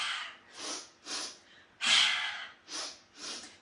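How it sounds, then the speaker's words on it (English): Intense, forceful breath-work exercise: six loud, close, rhythmic bursts of air, one stronger rush in the middle, with short quiet gaps between them. "Intense work with your breath."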